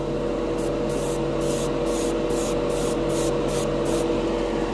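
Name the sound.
Badger airbrush spraying Golden High Flow acrylic paint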